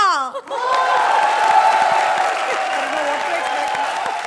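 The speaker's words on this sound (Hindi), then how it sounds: "a very big round of applause" A studio audience at a comedy show breaks into loud applause and cheering right after a brief voice, the clapping and whoops holding steady and full to the end.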